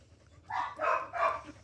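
A dog showing aggressive, attention-seeking behaviour barks three times in quick succession, close and fairly loud, with quiet background before the first bark.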